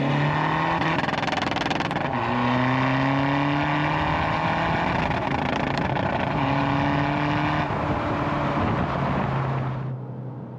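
BMW 125d with a B47 diesel engine on a dyno, held high against a hard-cut rev limiter, droning loudly and steadily with repeated brief dips and pops as the cut bounces the revs.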